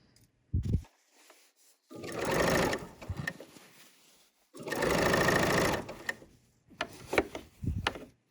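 A sewing machine stitches a tote bag in two sustained bursts of rapid needle chatter, with brief pauses, small clicks and handling noises between and after them.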